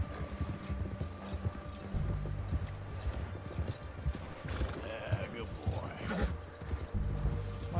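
Galloping horse hooves in Red Dead Redemption 2, a rapid rhythmic clip-clop with a brief whinny partway through, mixed with game sounds while a player talks over it.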